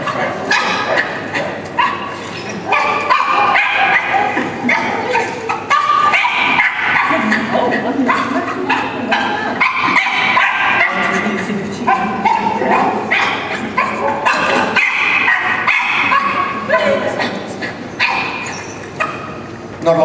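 A small shelter dog barks, yips and whimpers almost nonstop in a frantic, overexcited state, loud and close, with a person's voice mixed in underneath.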